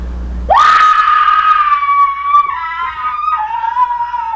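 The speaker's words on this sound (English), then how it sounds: "If you don't let go, I'm gonna start screaming." A woman screams loudly in a stage drama, one sustained high cry that starts abruptly, holds steady, then dips slightly in pitch and continues for several seconds without talk.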